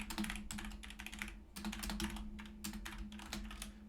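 Code is typed on a computer keyboard in quick clustered bursts of soft clicking keystrokes, with short pauses between runs, close and unaccompanied by talk.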